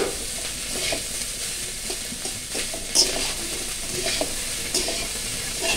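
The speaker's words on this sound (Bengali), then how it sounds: "তো এই পর্যায়ে আমি পেঁয়াজ কুচিগুলো দিয়ে দিলাম।" Chopped onions fry in a hot pan with a steady, close sizzle, broken by occasional scrapes and clicks of stirring.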